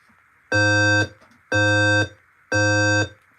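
Three loud electronic fire alarm evacuation tones from a building voice evacuation system, each about half a second long, sounding in a steady on-off pattern with short gaps between them.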